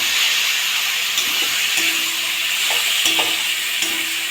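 Potato pieces drop into hot spiced oil for a silver calf fish and potato curry, raising a loud, dense, continuous sizzle close by, with a few faint clinks of a spatula.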